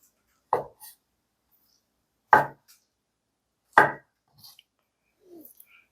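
A kitchen knife cuts a block of konjac into slices about 1 cm thick on a cutting board: three crisp, separate chops spaced well apart, with quiet pauses and small taps between.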